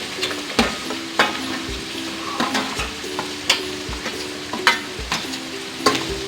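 Garlic and chillies sizzle in a pan while a spoon stirs them, giving a constant close frying hiss broken by regular sharp scrapes and taps on the pan, no voices.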